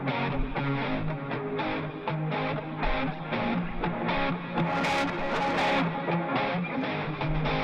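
A music sample with a lo-fi effect plays steadily, its high end dulled and slightly gritty, while a rhythmic pattern of beats and chords pulses throughout.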